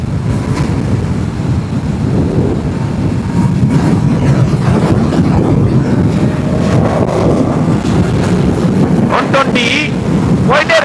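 A BMW superbike cruising in sixth gear at 120, its low engine drone buried under steady, heavy wind roar the whole way, with a voice talking over it.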